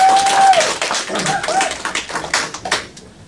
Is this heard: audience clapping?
yes